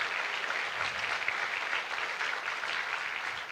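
A church congregation applauds in praise, a steady, moderately distant wash of clapping that continues evenly throughout without any voices over it.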